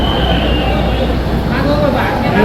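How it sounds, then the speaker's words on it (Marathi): Ropeway cable car pulling into its station at a hilltop shrine, a steady mechanical rumble and rolling hum close by with a few faint squeals, people talking over it throughout. "सी गाईज येते ती ट्रेन"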